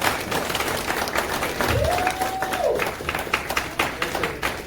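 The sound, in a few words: audience applause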